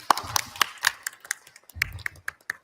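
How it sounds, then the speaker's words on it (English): Audience applause at a public speaking competition, a short burst of sharp, uneven hand claps close by that thins briefly midway before picking up again. "Now let's give a big round of applause to Ms. Mulyanita Borudanami."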